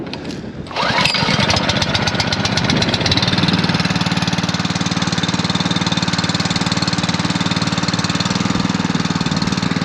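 A small petrol engine for spray tanks coughs into life after a brief pull with choke on, then revs and settles into a loud, steady buzzing run close by.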